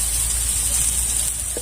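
Chopped onion fries in a pan with a soft, even hiss of sizzling oil, quiet and continuous over the short stretch.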